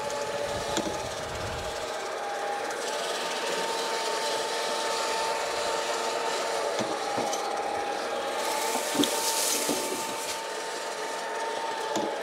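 A Swardman Electra 2.0 electric reel mower cuts a lawn with a steady whirring hum and soft scraping blade noise, continuous and fairly close, with no talking.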